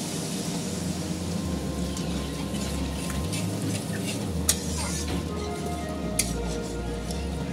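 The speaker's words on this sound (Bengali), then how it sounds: "এবার আমি জল দিয়ে দিচ্ছি" Water poured into frying ground masala of cumin and coriander powder for a tel koi fish curry, a steady close sizzle and bubbling with stirring through the pan and a couple of sharp utensil clinks.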